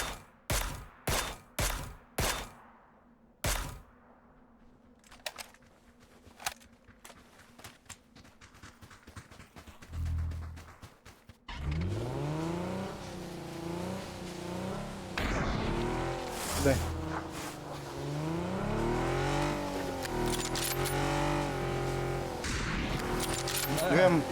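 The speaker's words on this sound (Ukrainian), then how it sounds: "Якась тачка тут" A car engine in PUBG: Battlegrounds revs and shifts pitch continuously, loud and close, with voices talking over it. Sharp, rapid cracks come first, before the vehicle drives off.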